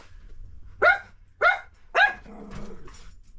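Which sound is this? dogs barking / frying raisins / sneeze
dogs barking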